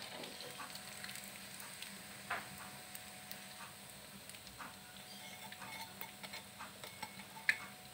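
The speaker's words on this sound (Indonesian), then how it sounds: "kita goreng sampai adonannya habis" Tempe mendoan slices in batter fry in hot oil, giving a steady low sizzle with scattered small pops and crackles, fairly quiet and close, with no voices.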